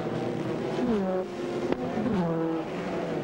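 Audi and Cadillac sports-prototype race cars plunge through the Laguna Seca corkscrew during a 2001 American Le Mans Series round, engines snarling at moderate distance with pitch sweeping down and up as the cars brake and accelerate.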